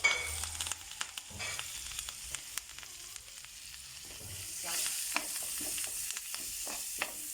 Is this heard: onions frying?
yes